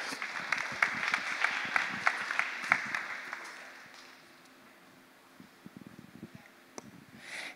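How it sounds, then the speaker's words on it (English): Audience applause at a gathering greets a speaker, the Blood Tribe's communications manager. Moderately loud clapping for about four seconds fades to a quiet room with a few scattered claps and rustles. "Let's give her a big round of applause."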